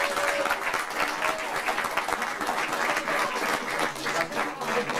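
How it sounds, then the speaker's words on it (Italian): An outdoor festival crowd in Santa Croce di Magliano claps steadily for a performer, a continuous moderately loud patter of many hands. "Ragazzi, un applauso!"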